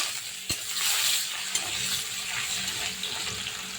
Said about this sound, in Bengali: এবার আমি দিয়ে দেবো পেঁয়াজ কুচিয়ে রাখা, যে পেঁয়াজটা, সেই পেঁয়াজটা আমি দিয়ে দেবো